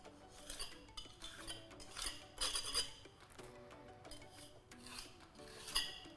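Trowel scraping mortar residue off a joint, a series of faint rasping scrapes with metallic clinks, irregular and close, no talk.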